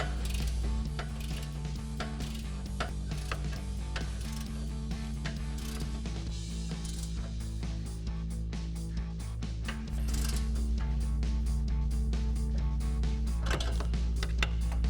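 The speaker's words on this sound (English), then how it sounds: "once you've got it on with a ratchet wrench, you can leave it on there and just go ahead and tighten it up." A ratchet wrench tightening the rear camber arm bolt on a 2015-2023 Ford Mustang, a steady stream of close mechanical clicking under a loud continuous background hum.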